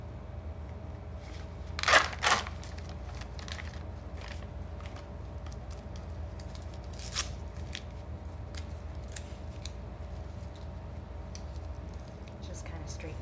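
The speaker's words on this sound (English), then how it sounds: "I'm going to get my tubing and pull it out of the package" Medical IV tubing pulled from its plastic package: two quick crinkling rustles close by, then a long stretch of quiet room hum with a faint later rustle.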